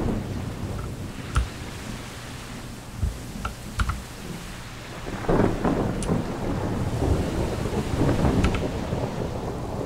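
Rain and thunder in the Minecraft video game, a steady rain hiss with a low rumble building toward a louder roll, and sharp clicks scattered throughout like keyboard taps.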